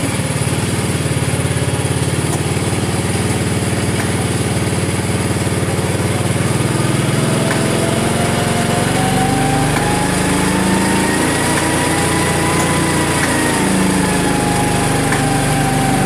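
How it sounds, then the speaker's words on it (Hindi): A motorcycle engine runs steadily in gear as the clutch is slowly released with light throttle, giving a loud continuous drone with a faint rapid ticking from the drive chain and a slight pitch change partway through. "ये आप सुन रहे हैं, इसमें से टक टक की आवाज़ आ रही है"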